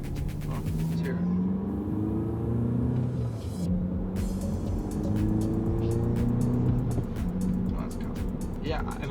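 A Volkswagen GTI MK7 fitted with an ECS Tuning aftermarket exhaust rumbles steadily while driving, heard from outside with a loud, constant engine drone throughout, and a person talks over it.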